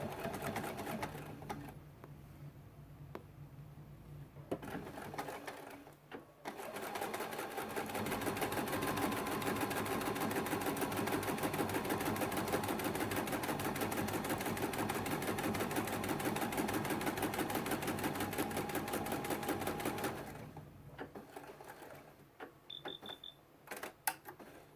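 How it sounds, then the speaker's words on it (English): A sewing machine stitches quilt sashing in a long steady run of fast, even mechanical whirring and clatter, with quieter handling and shorter stitch bursts at the start and end. "And I'll just start sewing."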